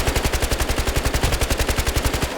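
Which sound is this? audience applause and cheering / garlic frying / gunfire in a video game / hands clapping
gunfire in a video game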